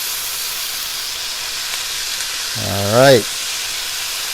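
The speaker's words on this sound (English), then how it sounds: "If I put in something really wet, or I put in too much of something, and that sizzling stops, that means I've overloaded the wok." Chicken stir-frying in a hot wok gives a steady broadband sizzle throughout, while someone briefly speaks over it partway through.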